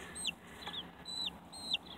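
Thirty-day-old Buff Orpington chicks give three thin, high descending peeps spaced evenly over two seconds, faint against a low background hiss.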